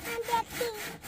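A craftsman works a hand saw through wood for a traditional bamboo house, giving about a second of rasping back-and-forth strokes, close and moderately loud.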